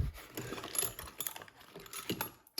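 Ratcheting screwdriver from a mobile mechanic's tool kit clicking in quick, irregular bursts of small metallic ticks, close and fairly quiet, with no talking.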